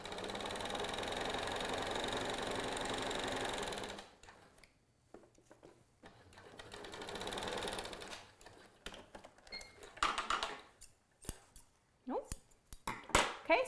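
Home sewing machine stitching a seam at a long basting stitch length on a lapped zipper, a steady mechanical whir for about four seconds, then quieter intermittent clicks and handling noises with a brief second run.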